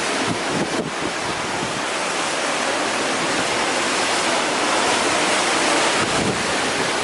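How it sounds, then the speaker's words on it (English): Ocean waves crash and splash high around Cape Horn while a boat rounds the island, a loud, continuous roar of surf and wind buffeting with no speech over it. "these waves splashing as high as they are"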